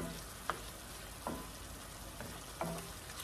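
Shrimp cooking in a pan for a New Orleans BBQ shrimp po' boy, with a steady quiet sizzle and a few soft clicks or stirs spaced through it.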